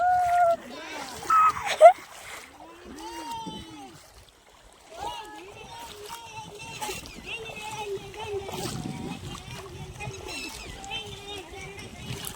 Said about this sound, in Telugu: ఇంత అందంగా పోతున్నాయో నీళ్ళు